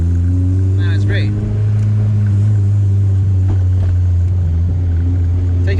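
Honda Civic coupe (1994 body, K20Z1 engine) idling with its exhaust, a loud steady low rumble with a couple of brief revs. A person talks briefly over the engine.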